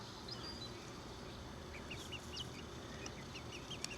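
Chickens cluck softly outdoors in spring, in a pen shared with rabbits, a scattering of faint, distant clucks over steady background noise with no talking.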